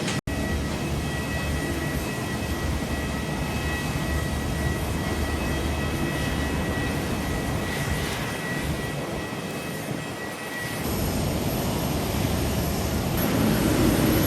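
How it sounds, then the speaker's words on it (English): Jet aircraft taxiing and taking off at Tokyo Haneda Airport, a continuous broad engine roar heard from a distance that shifts and swells after a brief dip partway through. "you can see aircraft taxiing and taking off"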